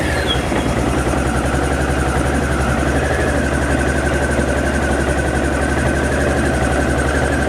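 A Honda DN-01 motorcycle engine idles steadily at close range, a continuous even rumble with a faint high whine running throughout and no voices.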